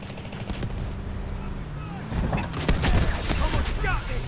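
Artillery barrage explosions in the video game Delta Force, with a run of sharp, loud blasts and crackling gunfire building in the second half over a steady low rumble, mixed with some voice activity.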